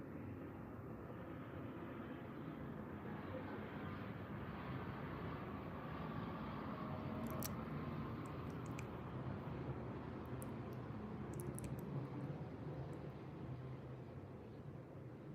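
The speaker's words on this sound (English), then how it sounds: "Another plane coming." An airplane flies over a house as a faint, steady low rumble of distant engine noise that holds without a clear peak, with no voices.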